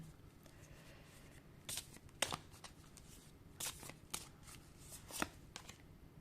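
Tarot cards are shuffled by hand in a quiet room, a series of sharp riffling bursts and soft slides spread irregularly across the stretch, fairly close and fairly quiet.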